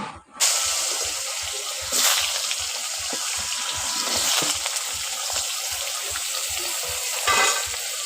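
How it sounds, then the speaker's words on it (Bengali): Potato pieces for a fish curry fry in hot oil, with a steady close sizzle and bubbling and a few louder bursts as the pieces are stirred. "আলুটাকে ওই তেলের মধ্যে দিয়ে ভেজে নেব।"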